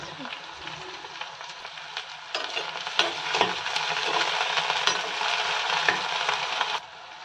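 Onion and garlic leaves hit a hot pan of lightly browned onions for an egg and tomato fry, setting off a steady, close sizzle with scattered crackles and stirring clinks that swells slightly and then cuts off.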